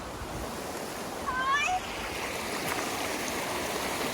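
Shallow water runs over smooth pebbles in Ireland, a steady near rushing babble, with a brief voice-like call cutting in partway through.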